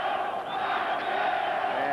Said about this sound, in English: Ranchero, they're chanting.